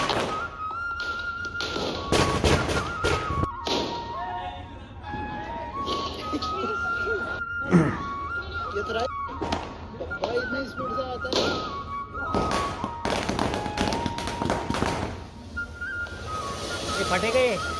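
Diwali firecrackers burst outdoors in a long run of sharp bangs and thuds, some whistling as they fly, mixed with nearby voices talking and shouting throughout.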